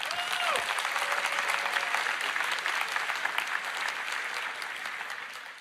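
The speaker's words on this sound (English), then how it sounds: "you can applaud." A keynote audience breaks into steady, sustained applause, a dense wash of many hands clapping that fills the hall and slowly tapers toward the end, with a brief tone near the start.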